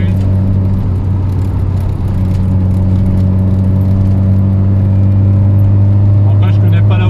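Fiat Ritmo 105 TC engine droning steadily from inside the car while driving, a loud constant low hum with road noise throughout.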